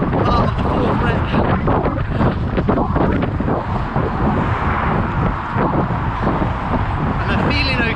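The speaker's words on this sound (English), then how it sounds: "There is quite a headwind going back this way" A strong headwind roars and buffets against the microphone during an outdoor run, a loud, steady rushing that never lets up across the whole stretch.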